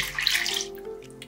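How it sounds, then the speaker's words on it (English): Three cups of water poured into a pot for pumpkin oatmeal in a home kitchen, a brief bright splashing gush that fades after about half a second. "And then we're gonna put 3 cups of water."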